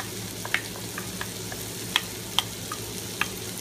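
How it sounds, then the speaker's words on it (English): Minced onions sautéing in bacon grease for Southern-style green beans, a soft even sizzle under a low hum, punctuated by a few sharp pops and utensil taps, close and fairly quiet. "I'm going to just saute off these onions"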